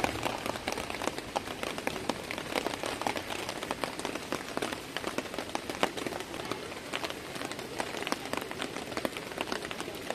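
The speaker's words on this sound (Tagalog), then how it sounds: "Kinahaponan, bumagsak din ng katamtamang ulan." Moderate afternoon rain falls at a riverside campsite as a steady, dense patter on surfaces, continuous and even throughout with no voices.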